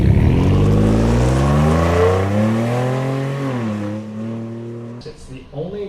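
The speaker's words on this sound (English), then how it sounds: "the exhaust I want to go with for the V6 is the Borla Attack" A 2015 Ford F-150 Lariat 3.5 V6 pickup fitted with a Borla ATAK aftermarket exhaust revs loudly up close: a rising, held throaty drone that sinks back down, followed by a few choppy bursts near the end.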